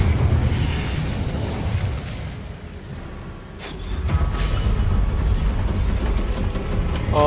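Fire spell cast in the game Hogwarts Legacy, a deep rumbling whoosh of flame that swells, dips briefly, then roars again, loud and sustained with no talk over it.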